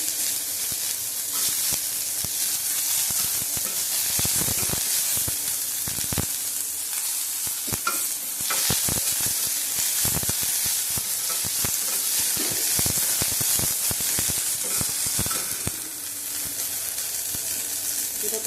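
Garlic and onion fry in a little oil, a loud, continuous close sizzle and hiss with scattered stirring clicks and scrapes throughout, no speech.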